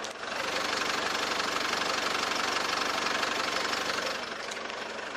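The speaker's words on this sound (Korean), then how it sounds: "엔진로 한번 열었고요 엔진 소리 한번 들려드릴게요" A SsangYong G4 Rexton SUV engine idles steadily at close range with the hood open, a low continuous rumble with a faint rhythmic knock, no voices.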